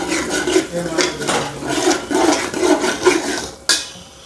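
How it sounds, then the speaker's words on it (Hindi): Masala and onions frying in oil in a pot, with the oil separating from the spices, stirred in a steady rhythm of scraping and rubbing strokes against the metal, close and fairly loud, ending in a sharp clank. "इसे 2 मिनट और भूनेंगे"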